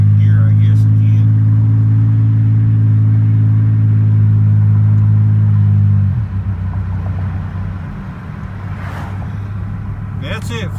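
Car running after a junkyard transmission install: a loud, close, steady low engine hum that drops in pitch and level partway through, then settles into a quieter idle rumble.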